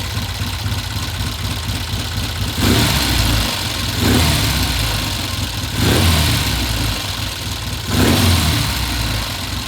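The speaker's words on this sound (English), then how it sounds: "Now we find out whether or not it comes off idle smoothly or if it hesitates." A 1969 Norton motorcycle engine idling evenly, then blipped off idle in several smooth rises in revs before settling back each time, close and loud with no one speaking.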